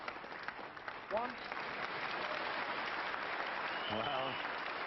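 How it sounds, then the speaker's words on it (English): A snooker crowd applauds steadily, a continuous wash of clapping, while a voice speaks briefly over it twice. "applause."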